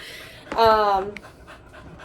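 A Boykin spaniel pants in a short, close burst with a brief whiny, voiced tone mixed in, then fades to quiet breathing and faint background sounds.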